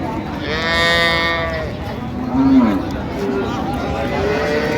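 A dairy cow moos loudly nearby at a cattle market in Raniganj, Dinajpur, a long drawn-out low, followed by a shorter call, over a busy background of people talking.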